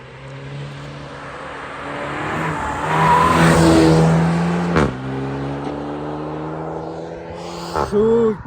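A car accelerates hard around a roundabout, its engine revving up to a loud peak, easing briefly, then pulling again with a rising note and a sharp burst near the end.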